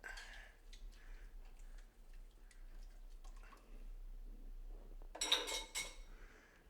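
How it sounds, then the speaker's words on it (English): A lid set back onto a pot of ginger mead on a kitchen counter: a brief, bright metallic clatter near the end, after quiet handling noises and faint clinks, with no talking. "Put our lid back on."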